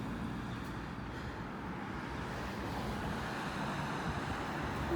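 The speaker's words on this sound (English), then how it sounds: "how the traffic picks up, right?" Road traffic makes a steady, broadband roar of passing vehicles that stays constant and moderately loud throughout, with no distinct individual passes and no talking.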